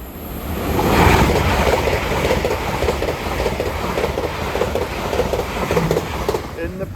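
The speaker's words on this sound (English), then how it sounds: "Next service pass through is LNER service from London King's Cross to Edinburgh" An LNER passenger service from London King's Cross to Edinburgh rushes past a level crossing, a loud, steady roar of wheels on rail with rhythmic clickety-clack as the carriages pass close by.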